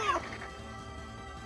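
A short, sharp cat cry from a pet cat attacking in a World of Warcraft pet battle, a single faint yowl at the start that fades into quiet game background.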